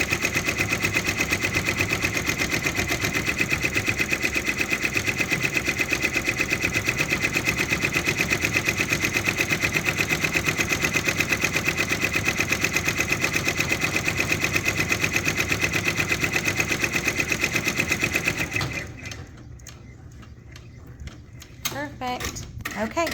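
A Baby Lock Endurance II six-needle embroidery machine stitches in a fast, steady mechanical rattle that runs loud and unbroken for most of the stretch, then stops and gives way to quieter handling sounds near the end.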